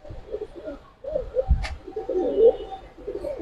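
Colored fancy pigeons cooing at a bird market, several close, low throaty coos in a short run with faint background noise.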